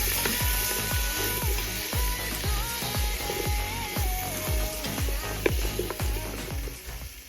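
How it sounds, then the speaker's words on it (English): Carrots, celery and onions sizzle steadily in a pot, with a string of sharp clinks and scrapes of a utensil against the metal repeating roughly every half second over the frying hiss. "While the carrots, celery, and onions are cooking in the pot"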